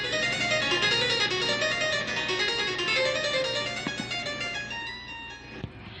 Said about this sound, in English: The clavichord doesn't sound too much different.